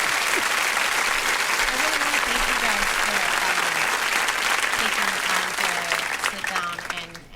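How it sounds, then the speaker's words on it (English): A crowd at a political talk event in Westchester supporting Bernie Sanders applauds loudly and continuously, with some voices calling out over the clapping before it thins and fades at the end. "Can she get a round of applause for that?"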